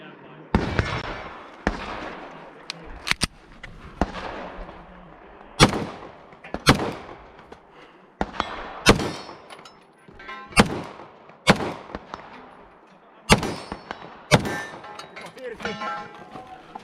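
Handgun shots fired by a shooter at an outdoor range during a practical shooting drill, about a dozen sharp cracks in an irregular string with echoes, loud and close, with brief commands spoken between.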